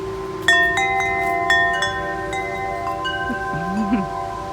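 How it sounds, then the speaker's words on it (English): Several bright metallic wind chime tones in a sensory garden ring out one after another, overlapping and sustaining over a low, steady background hum. "And here is a wind chime."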